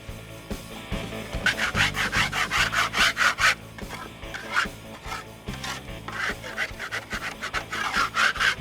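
A drywall mudding scraper scrapes across a wooden chicken coop in rhythmic, gritty strokes, some coming in quick bursts, close and loud, with no talking.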